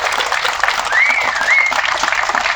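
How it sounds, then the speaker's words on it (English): Audience applause at a press conference about the Broad Street Market fire, a steady wash of clapping from a crowd that holds at an even level throughout, with a brief whistle-like tone partway through. "Can we give an applause for that?"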